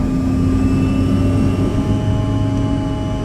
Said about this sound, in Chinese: 驾驶着开拓者号驶出跑道顺利起飞